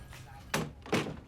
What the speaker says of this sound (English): Joan, could you shut the door?